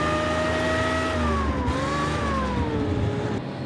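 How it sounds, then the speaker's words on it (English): The deep engine exhaust of the Tiger 131 tank drones steadily and loudly nearby, its pitch sliding slightly up and down as the revs shift. "you can hear the difference in exhaust notes between the 2 types of fuel"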